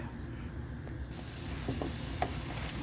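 Butter sizzling in a pan as a roux for chicken potpie is cooked, a steady soft crackle at close range with a few faint scraping taps from stirring.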